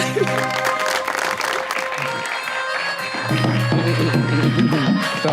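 Studio audience on a SAMAA TV talk show applauds a guest's entrance, steady clapping over a bed of music with tonal notes, growing fuller and louder in the second half.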